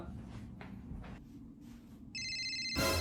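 A mobile phone rings in a quiet classroom during an exam, a bright electronic ringtone that starts abruptly near the end after some soft rustling.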